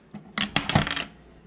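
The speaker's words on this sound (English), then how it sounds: "You should put the dice in." Dice dropped into a plastic toilet-themed children's party game, giving a quick cluster of several close, sharp clattering hits that rattle briefly and then fade out.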